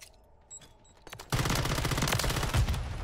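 In Call of Duty: Modern Warfare III, an automated turret opens fire in a loud, sustained rapid burst after a quiet lead-in with faint beeps, close and dense with no talking.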